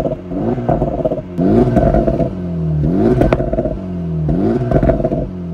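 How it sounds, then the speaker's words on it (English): A 2024 Acura Integra Type S with a triple exhaust revs up and drops back repeatedly, about four loud, close throttle blips with rising engine pitch, crackles and pops between pulls. "Now that you hear how cool the exhaust sounds"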